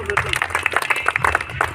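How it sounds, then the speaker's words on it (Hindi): An audience claps in a brisk, uneven patter for a short burst at a Hindi spiritual discourse, with a voice faintly underneath. "ताली बजाइए"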